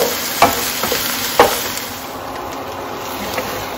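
Chicken being sautéed in a pan for a kasha-style curry, a steady frying hiss broken by a few sharp spoon scrapes and clinks early on, fading slightly toward the end.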